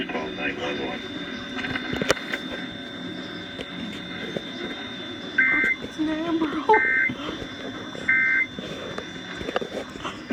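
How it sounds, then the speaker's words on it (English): Three loud, steady emergency alert tones sound one after another at even intervals, each held about half a second, over a background of radio broadcast noise and murmuring voices. "that was an official Amber Alert from State Police"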